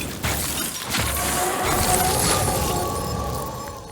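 Tinkling glass and crunching ice used as a monster sound effect for crystal-covered creatures in the game Crowfall: a sharp shattering crash followed by a sustained glassy, crunching clatter that slowly fades.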